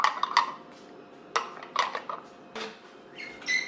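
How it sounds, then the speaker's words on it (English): A small whisk stirs a mixture in a bowl, giving sparse metallic clinks and scrapes against the sides in short bursts with quiet gaps between them, close and fairly faint, with no voices. "So I'm literally just stirring it into there."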